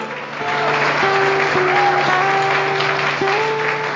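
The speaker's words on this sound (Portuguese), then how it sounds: "aplauda a Imaculada, igreja!" Church congregation applauding a Marian devotion at a Catholic service, steady dense clapping throughout with a sustained musical tone underneath.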